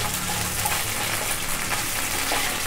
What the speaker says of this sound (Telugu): అల్లం పేస్ట్ పచ్చివాసన పోయేంత వరకు లైట్గా వేగనివ్వాలి